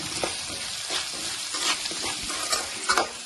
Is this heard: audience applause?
no